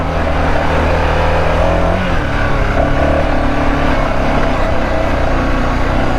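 A BMW F650GS dual sport motorcycle rides over a rough, rocky road, its engine droning loud and steady under heavy wind and road rumble throughout.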